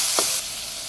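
Vegetables with turmeric and salt sautéing in a pan, a loud, close hiss with one short scrape of stirring near the start, and the sizzle easing a little partway through.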